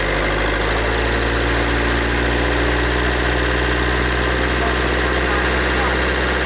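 A car engine idles with a loud, close, continuous drone as it is revved lightly, the pitch shifting slightly partway through, with no clear speech over it.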